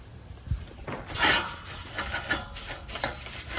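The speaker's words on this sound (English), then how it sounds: "Stainless steel wool, just to clean off the grease and all of these." Stainless steel wool scrubbing grease off an outdoor grill, a close, steady rasping rub in repeated strokes that swell and fade over a few seconds, heard alone without talk.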